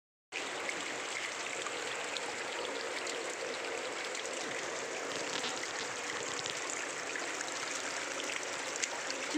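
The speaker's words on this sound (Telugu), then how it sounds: "ఇక్కడ లైవ్గా వర్షం కొడుతుంది, సోక్ పీట్లకు నీళ్ళు ఎట్లా పోతాయో చూపిస్తారండి." Live rain pours steadily as runoff flows into water-harvesting soak pits, making a continuous, even, broadband wash of falling and running water that holds constant throughout with no voices.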